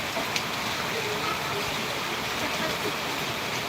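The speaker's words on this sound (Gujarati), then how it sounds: "વરસાદ ચાલી રહ્યો છે" Steady rain falls in a dense, even hiss that holds unbroken throughout, fairly soft and uniform, with no distinct voices rising above it.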